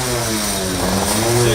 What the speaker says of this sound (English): I hear a two-stroke running somewhere.